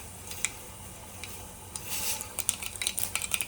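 Mustard seeds dropped into hot oil for a Kokani ridge gourd aamti, giving scattered sharp pops and crackles that grow denser toward the end, moderately quiet with no talk.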